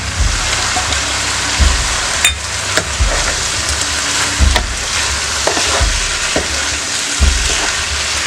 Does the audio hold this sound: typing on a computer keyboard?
no